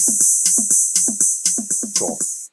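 Pattern D on a drum machine: a looping beat with a constant hiss-like hi-hat wash over evenly spaced punchy kicks and snares, closing on a brief fill. Loud and steady, no one speaking.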